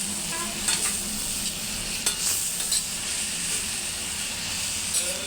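Cabbage palya frying in a pan while being stirred, a steady close hiss and sizzle with occasional scraping stir strokes, no talk.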